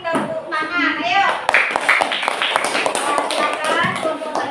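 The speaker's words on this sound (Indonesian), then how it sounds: "Kita beri tepuk tangan." Classroom applause for a group, quick scattered claps and taps from students mixed with lively voices and chatter throughout.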